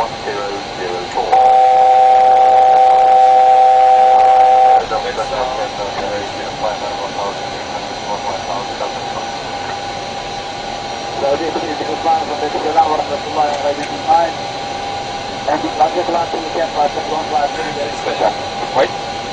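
Airliner on night approach and landing at Jeddah airport, a steady broadband cabin roar of engines and airflow throughout, with a radio tone beeping early on and cockpit radio talk and crew voices over it.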